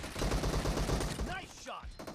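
Rapid gunfire in the video game PUBG rattles in a dense, continuous burst for over a second, then thins out into a few scattered sounds.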